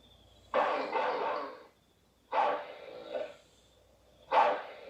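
Three separate bursts of a dog barking from an old movie, each a broad harsh yelp lasting about a second with short quiet gaps between, fairly loud and alone without talk.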